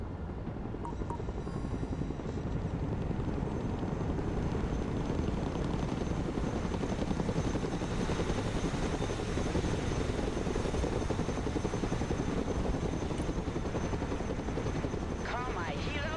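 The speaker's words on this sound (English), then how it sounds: "Let's go and recover it with our helicopter." A helicopter's rotor chops steadily and loudly throughout, a constant thumping drone with engine whine, nearby and unbroken, in the video game Broken Arrow.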